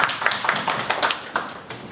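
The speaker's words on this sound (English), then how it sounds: "Let's give a round of applause to the three of our circle members." A short burst of audience applause after members are introduced, a steady patter of claps at moderate loudness with no talk.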